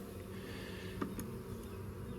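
A dense, steady drone of many honeybees buzzing together at close range in an open hive during inspection, with no voices.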